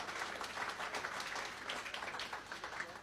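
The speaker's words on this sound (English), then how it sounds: "give the Rotary Club a big round of applause for putting on this great event today" Audience at a Rotary Club event applauds, a fairly faint, even wash of many hands clapping heard from a distance across the hall, continuous throughout.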